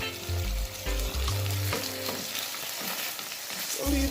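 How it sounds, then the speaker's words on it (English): Ackee and saltfish simmering in a pan, a loud continuous sizzle with bubbling crackle, and a stirring clatter near the start, heard alone without talk. "leave that to simmer down for about a minute"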